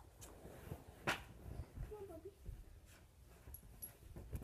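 A dog whimpers softly indoors with brief thin whines and a sharp yip, faint and close, mixed with light movement noises and a person speaking quietly.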